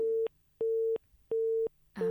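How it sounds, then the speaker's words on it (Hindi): Telephone busy tone on a disconnected call-in line during a farm radio show: steady beeps in a regular on-off rhythm, clear and alone, with the start of a voice at the very end. "लगता है तकनीकी खराबी के कारण फ़ोन कट चुका है"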